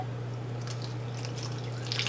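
Water splashes and trickles into a bowl of dry bread mix against a steady low hum, with a louder burst of splashing at the end.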